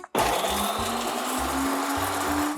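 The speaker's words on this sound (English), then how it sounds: "now we cut the garlic" Garlic cloves whirring in a blender jar, a steady loud motor drone with a gritty chopping texture, pulsing slightly as the blades catch pieces, running alone without any voices.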